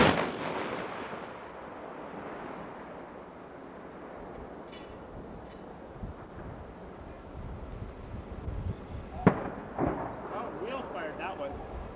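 Tank guns firing at a live-fire exercise heard from a distance, a few sharp booms late in the stretch against wind noise, with people talking throughout.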